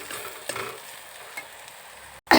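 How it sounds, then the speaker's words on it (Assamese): Ginger, garlic and chilli paste fries in a pan with a soft continuous sizzle, broken by a few scraping stirs and a louder clatter at the very end. "আদা, নহৰু, জলকীয়া মিক্স বটি এনেকৈ দি দিছোঁ। এতিয়া অলপ ভাজি থাকিব লাগিব"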